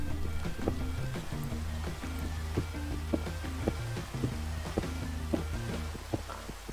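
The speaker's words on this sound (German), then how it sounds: "Jetzt regnet das so voll hässlich." Steady rain hisses in Minecraft during a thunderstorm, a constant wash of sound under rhythmic in-game thumps and clicks, with no talking.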